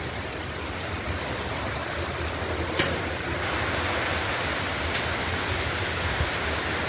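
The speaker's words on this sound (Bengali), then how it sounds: "প্রচুর ঝড় হইতেছে, প্রচুর ঝড়" Heavy rain pours steadily during a strong storm with gusting wind, a dense continuous roar with no voices, the first rain after a hot spell.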